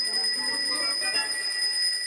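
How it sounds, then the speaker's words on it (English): A warning bell rings continuously in an animated scene, a bright, steady high-pitched tone with a slight trill, moderately quiet and alone without talk. "listen for a warning bell"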